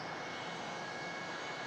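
An airplane doing touch-and-go landings on the runway at Hilo Airport in Hawaii produces a steady, continuous engine roar heard from a distance with no breaks.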